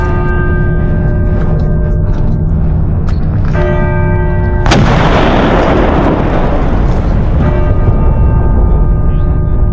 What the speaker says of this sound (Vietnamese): tiếng đại bác lớn lắm, nên là các bạn có đến đây thì cẩn thận giật mình nha